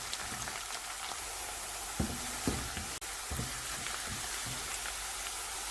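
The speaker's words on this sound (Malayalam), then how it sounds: "ഇതെല്ലാം കൂടി നമുക്ക് നല്ലതുപോലെ ഒന്ന് മൂപ്പിച്ചെടുക്കാം." Green chillies, ginger and curry leaves fry in a pan with a continuous soft sizzle. A few sharper pops and stirring clicks rise above it, and the whole sound stays fairly quiet.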